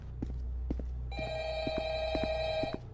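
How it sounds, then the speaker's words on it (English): A telephone in the video game Five Nights at Freddy's rings in a steady electronic trill, repeating for a couple of seconds after a few soft thumps and muffled knocks. "Oh, I hear the phone ringing."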